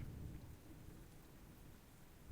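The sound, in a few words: rain and thunderstorm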